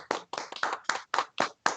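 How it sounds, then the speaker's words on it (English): A small group claps for a volunteer at an evening political organizing event: a short run of about eight distinct, fairly quiet hand claps in uneven rhythm, with no voices. "Can I get a round of applause for William Fine?"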